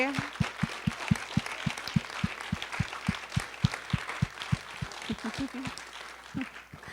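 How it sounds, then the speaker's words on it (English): Audience applauding students at a middle school scholar bowl, a room of steady clapping with distinct rhythmic hand claps near the mic, moderately loud, with faint voices beneath. "can we have a round of applause for all the kids today?"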